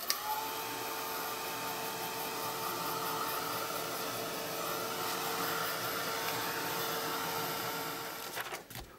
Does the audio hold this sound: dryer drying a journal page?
yes